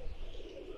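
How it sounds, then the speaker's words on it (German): A pigeon coos softly in a video game, a low, warbling call repeated over a faint, steady background. "Das ist eine Taube, kein Papagei."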